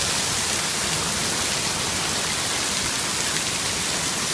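Heavy rain mixed with hail during a California thunderstorm makes a dense, unbroken roar of pelting water close to the microphone, steady throughout with no talking.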